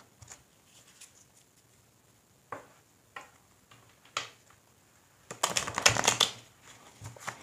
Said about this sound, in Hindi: तब तक मैं कार्ड्स को थोड़ा सा मिक्स कर लेती हूँ।